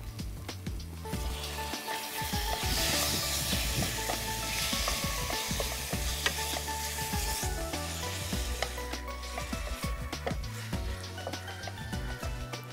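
Chicken sizzles steadily as it fries in a hot pan, with repeated scraping and stirring strokes sounding up close throughout, and no voices over it.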